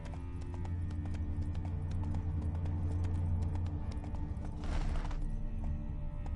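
Roach, a horse in The Witcher 3 on PS4, gallops with steady, rapid clip-clop hoofbeats over a low rumbling game ambience, with a brief snort or whinny near the end and no talking.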